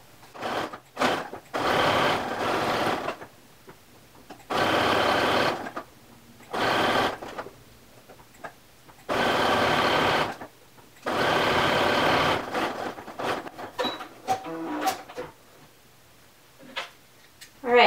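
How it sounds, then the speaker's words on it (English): Sewing machine stitching around a fleece mitten cuff, running in several sustained bursts of a few seconds each, separated by short pauses and small clicks, close and fairly loud. "And then we're going to stitch around this cuff."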